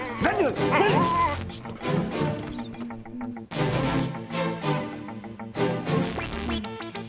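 A dog barks, yips and whimpers in a scene from the Hindi comedy film De Dana Dan, mixed with loud overlapping shouting and a crash of breaking objects.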